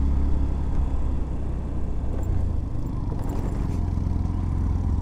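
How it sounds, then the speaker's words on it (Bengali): A motorbike engine labouring at high altitude on the climb over Sela Pass toward Tawang in cold mountain air, a steady, strained low drone running continuously throughout with no talk. "বাইকের ইঞ্জিন কিন্তু এবার কান্না করছে আস্তে আস্তে, বিকজ এত হাইটে উঠে গেছি যে ইঞ্জিনের পাওয়ার কম হচ্ছে"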